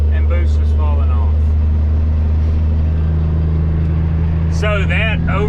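A semi truck's diesel engine drones heavily and continuously while pulling uphill as boost falls off near the crest, with someone talking briefly over the steady rumble.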